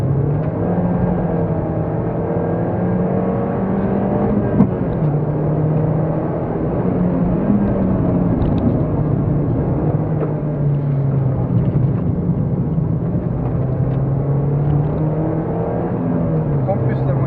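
A Peugeot 206 S16 engine drones loud and constant from inside the car on a track, its pitch rising and falling through gear changes and throttle, with voices speaking over it.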